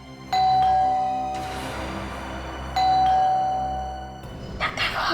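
A two-tone ding-dong doorbell rings twice, each chime ringing out and fading, with a brief rustle at the end.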